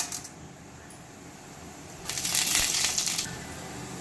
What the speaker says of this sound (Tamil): இப்போ ஆயில் சூடானதை எடுத்து வச்சிருக்கிற கடுகு கடலைப்பருப்பு சீரகம் ஆட் பண்ணிக்கலாம்